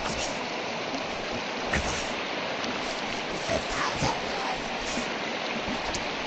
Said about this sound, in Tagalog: Fresh water to, galing sa kabundukan.